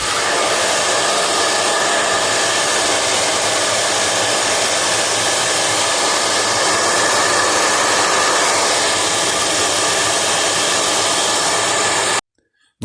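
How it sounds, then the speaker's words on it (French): A hair dryer blows loudly and steadily at close range, heating an iPhone 13 Pro screen, a constant whooshing whine that cuts off abruptly near the end. "Donc j'ai prévu le petit sèche-cheveux."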